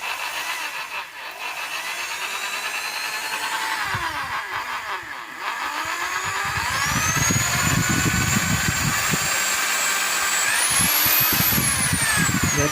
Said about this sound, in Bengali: ইম্প্যাক্ট ড্রিলে দিয়ে আমাদের এটাকে স্টার্ট করতে হবে।